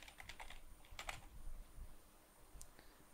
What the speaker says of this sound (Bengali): আমি এখানে জেনারেলি শপিফাই লিখলাম